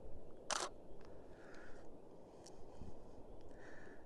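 A camera shutter clicks once, a sharp close mechanical snap, during an outdoor landscape photography shoot with a super wide angle lens, heard over steady wind or ambient noise.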